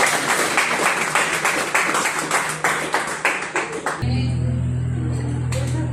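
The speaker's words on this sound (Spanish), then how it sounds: "si ustedes me dan un aplauso a mi hermano" Church congregation at a Sunday service breaks into steady, loud applause for a brother, many hands clapping together for about four seconds before cutting to a low sustained hum.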